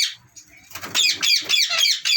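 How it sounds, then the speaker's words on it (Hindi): Native parrots in a wire-mesh aviary cage on a bird farm give harsh repeated squawks, close and fairly loud, with faint voices nearby. "ये देखें, तोते की आवाज़ है, आपको आ रही होगी।"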